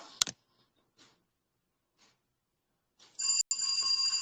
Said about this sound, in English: You can also hear my laptop, okay?